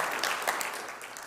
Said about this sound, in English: We can clap for them as many times as we want